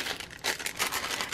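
Plastic bag from a craft kit crinkles close up in quick, sharp rustling bursts, alone with no voices over it.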